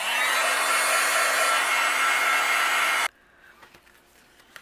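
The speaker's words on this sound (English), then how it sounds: "I'm going to melt this here with my heat gun." A heat gun melting white embossing powder for card making, a loud steady blowing whir heard up close for about three seconds before it is switched off, leaving faint handling noises.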